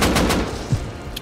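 Gunfire from an online raiding video game, a quick burst of rapid shots at the start, then a thud and a sharp shot near the end.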